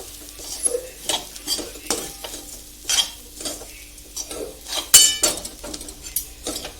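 Coconut powder being mixed in a pan with a spoon, giving irregular scraping stirs and metallic clinks of utensil on pan over a faint sizzle, close and without talk.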